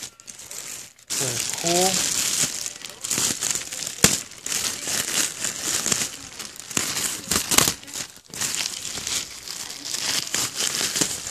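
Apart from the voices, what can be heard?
ripping open plastic packaging of plush throw blanket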